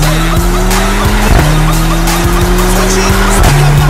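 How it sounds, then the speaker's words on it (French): A Mercedes-AMG A45 launches hard under launch control in Sport Plus mode, its engine roaring loudly through rapid upshifts with brief pauses between gears as the revs climb again after each change, close and continuous throughout. "avec une A45 AMG, il y a un truc que j'ai toujours voulu tester, le Launch Control"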